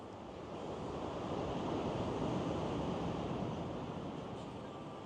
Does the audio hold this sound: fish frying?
no